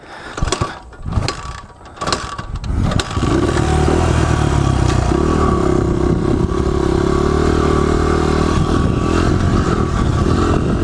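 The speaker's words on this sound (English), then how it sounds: "Let off the throttle. Now the RPMs are going to start to drop, and then downshift, and now the RPMs are going to go back up." A motorcycle is revved in a few short bursts, then settles into a loud, steady engine drone that sags and climbs again as the rider lets off the throttle and downshifts, heard close with no voices.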